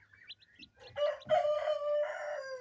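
A large cherry-red rooster crows nearby, one long drawn-out cock-a-doodle-doo rising after a few soft clucks and chirps at the start.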